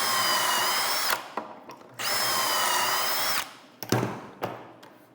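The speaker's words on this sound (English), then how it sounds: "I'll show you what I'm talking about after I get done drilling these holes" A power drill bores pocket holes in wooden window trim, loud close whirring bursts that start and stop, with short clunks and rattles between runs.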